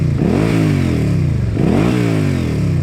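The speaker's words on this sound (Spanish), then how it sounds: "Definitivamente este motor suena muy bien con este tipo de escapes" Suzuki Gladius 650 motorcycle with a slip-on exhaust revs hard twice, each blip climbing sharply then falling back, loud and close with a raspy, throbbing tone and no voices.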